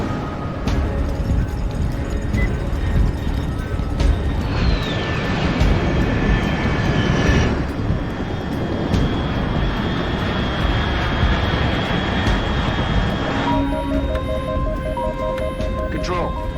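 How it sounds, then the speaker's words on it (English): Aircraft passing overhead in Metal Gear Solid Delta: Snake Eater, a rising jet-like roar and whine sweeping across a dense rumbling backdrop, with a voice speaking over it. "Control, unidentified aircraft detected."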